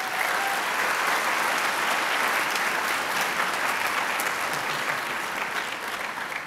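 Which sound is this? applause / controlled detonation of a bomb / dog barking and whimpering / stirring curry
applause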